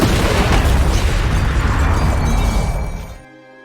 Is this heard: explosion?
yes